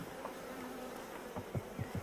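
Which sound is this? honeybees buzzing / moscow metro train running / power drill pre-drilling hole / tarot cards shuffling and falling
honeybees buzzing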